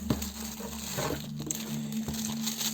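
Packing paper crinkles and rustles as a parcel is unboxed, with irregular soft crackles and a few sharper crunches over a steady low hum.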